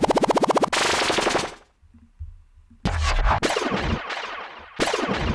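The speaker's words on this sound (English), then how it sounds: "we move on to the rag effect" A Speed Garage rag effect sample: a rapid buzzing stutter of repeated hits gives way to a rising whooshing sweep, a brief quiet gap, then a run of loud scratchy, gritty bursts with sharp attacks, heard alone with no voices.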